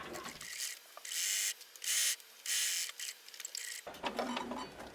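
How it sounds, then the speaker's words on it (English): A sewing machine edge stitching along a fabric hem runs in several quick mechanical bursts of whirring and clicking, separated by short pauses, close and clear with no talking. "now all that's left is I just need to edge stitch along my hem"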